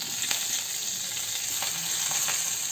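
Thuthuvalai leaves drop into a hot pan and sizzle with a steady hiss of frying, a few brief crackles and stirring sounds rising over the continuous sputter.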